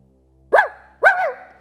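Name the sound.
toy robot imitating a dog barking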